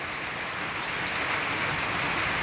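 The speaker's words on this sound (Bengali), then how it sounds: "এমনভাবে শিলাবৃষ্টি হবে।" Heavy rain mixed with hail pours down steadily during a hailstorm in Gazipur district, a dense, continuous hiss with no pauses and no voices.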